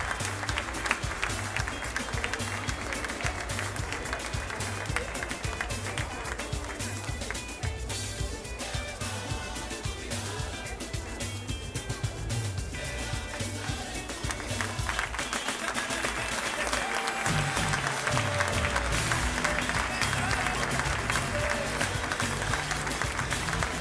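Sustained audience applause fills a swimming pool hall through the finish of a 4x50 freestyle relay, with an announcer's voice running faintly beneath the steady clapping.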